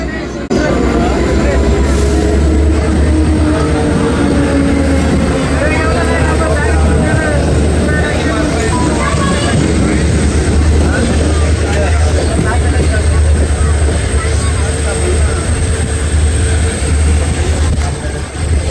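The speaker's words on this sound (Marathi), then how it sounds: "आता बघा मी ट्रेन समोरून ट्रान्स हार्बर लाईनवरून एक लोकल येते ठाण्यासाठी" A local train on the Trans-Harbour line rumbles past near Thane, heard from another moving train as a loud, steady roar with rail clatter and faint squeal, and a person talking over it.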